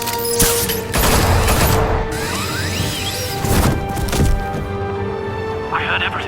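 Gunfire aimed at Batman in the video game Telltale Batman, with loud cracking shots and crashing impacts in a chaotic fight, mixed with shouting voices and music.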